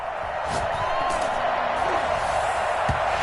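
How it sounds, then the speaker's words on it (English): A football stadium crowd at an NFL wildcard game between the 49ers and Seahawks roars and applauds after a defensive stop, a dense, constant wash of cheering with no breaks. "How about some applause for the defense there?"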